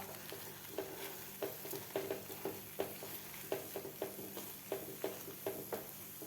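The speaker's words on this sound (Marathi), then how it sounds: "व्यवस्थित आपल्याला आणखी एक ते दोन मिनिट आपल्याला हे परतून घ्यायचं आहे मिश्रण" Moong dal halwa mixture cooked in ghee is stirred steadily in a pan, with a soft continuous sizzle and repeated rhythmic scrapes of the spoon against the pan, close and fairly quiet.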